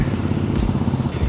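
Royal Enfield GT 650 motorcycle fitted with a Silver Stallion performance exhaust, a steady, loud, close engine rumble or idle running without a break and without talk.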